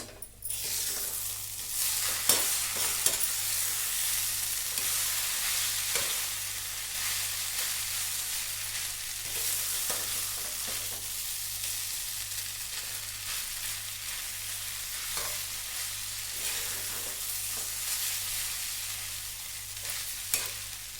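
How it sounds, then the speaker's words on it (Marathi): Spoon stirring sugar through pohe frying in a pan, a steady bright sizzle with repeated scraping strokes against the pan throughout, close and without talk. "आणि साखर फिरून घेऊ."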